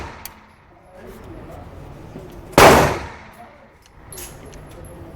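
A single shotgun blast goes off close by, loud and sharp with a quick decaying tail, standing out against a quiet outdoor background.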